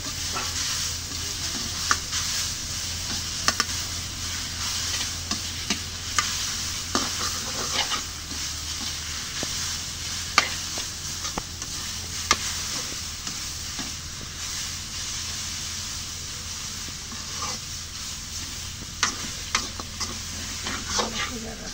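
Leafy greens stir-frying in a pan for a fish and mixed-vegetable dish, a steady close sizzle with scattered scraping and stirring clicks throughout, no talking.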